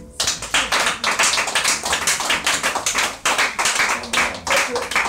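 A small group at a mushroom-growing training session in Douala claps in quick, sharp, uneven bursts, close and loud, with brief pauses between flurries.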